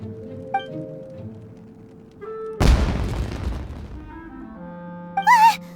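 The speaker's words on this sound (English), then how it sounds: "It sounded like fireworks." Fireworks explode in the Genshin Impact video game, one loud sudden boom with a crackling, decaying tail, set against a quiet tonal music bed, followed by brief bright chiming sounds.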